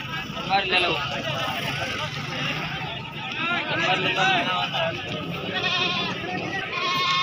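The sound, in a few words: goats bleating at a goat market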